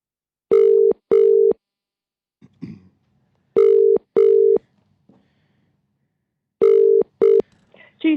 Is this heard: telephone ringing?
yes